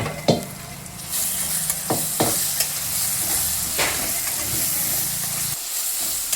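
Tomatoes fry in a pan for a brinjal and green peas curry, giving a steady bright sizzle broken by several sharp scraping and stirring clatters.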